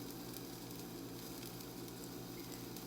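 Ingredients sauteing in a pan while chicken, bacon and mozzarella ravioli are cooked, a steady close-up sizzle and crackle with no breaks and no talking.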